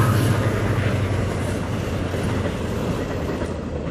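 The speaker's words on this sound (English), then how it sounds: "Another train." Train passing nearby, a loud continuous low rumble of rail wheels and wagons that slowly eases off, with no voices over it.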